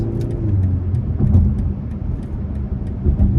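A 2025 BMW X2 xDrive28i compact SUV engine idles steadily with a low rumble, close by, with a slight swell partway through.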